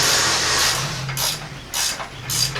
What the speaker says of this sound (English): Just using a ratcheting combination wrench because the dummies have all my tools out